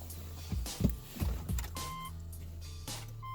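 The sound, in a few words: attempting to start a Subaru with a dead battery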